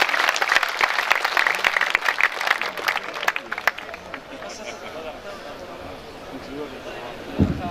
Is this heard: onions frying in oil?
no